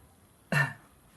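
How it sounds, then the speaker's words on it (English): A single short cough bursts out of near silence, close and fairly quiet, then fades quickly. "when you cough, see what happens"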